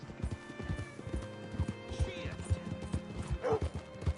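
Horse hooves clip-clop in a video game, a steady close trot rhythm with a whinny near the end and game voices talking over it.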